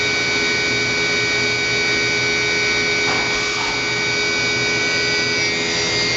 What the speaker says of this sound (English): it's not a balanced tool in there, so we're going to get some vibration at the highest RPM